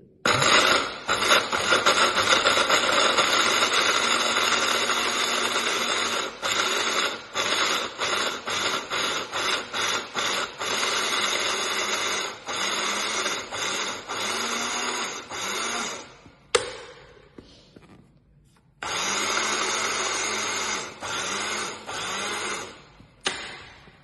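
A blender whirs loudly and continuously through vegan, gluten-free carrot cake batter, with brief pauses and restarts near the end and several sharp clicks breaking the motor drone.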